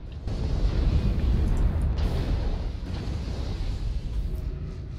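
Heavy, continuous rumbling blasts from airstrikes in a first-person shooter game, loud and dense with overlapping booms and a sustained low roar, without any talk.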